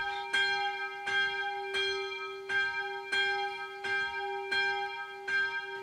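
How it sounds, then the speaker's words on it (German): Church bell rung by pulling a rope in a Hunsrückisch-speaking community in Brazil; a clear, ringing bell struck about seven times at a steady, slightly uneven rhythm, each strike overlapping the last's hum, heard alone. "Und du tust die Glocke ziehen?"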